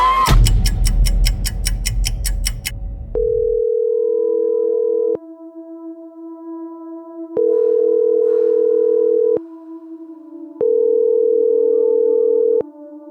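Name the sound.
telephone call tone before voicemail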